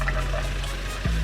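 An RV water pump runs during priming with coffee-maker water being poured in, giving a steady close motor hum with watery gurgling and trickling over it, and a brief clunk near the end.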